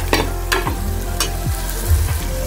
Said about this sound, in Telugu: ఇలా మధ్య మధ్యలో కలుపుకుంటూ ఉండాలండి.